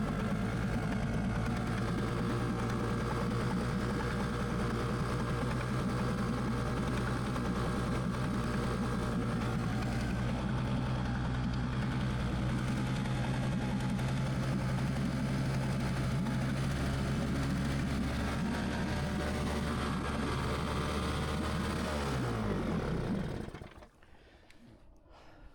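An aircraft engine that had not run for months races out of control, giving a loud, steady, unbroken drone that cuts off abruptly near the end.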